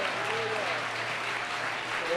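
A church congregation applauding, dense continuous clapping that fills the room throughout, with a voice speaking over it.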